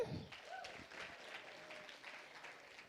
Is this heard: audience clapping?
yes